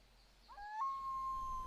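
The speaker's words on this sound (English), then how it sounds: "That's a loon call." Call of a loon, a single drawn-out wavering wail that rises then holds steady, faint and distant over quiet pond ambience.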